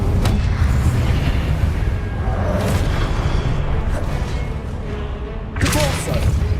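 Fiery spell blasts from Hogwarts Legacy, loud booming explosions rolling one after another with a sharp burst near the end, dense and close over continuous combat noise.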